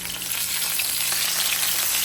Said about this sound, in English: Get this chicken cooking. Sizzle, sizzle.